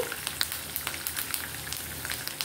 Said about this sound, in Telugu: ఇప్పుడు పోపు బాగా వేగిపోయింది.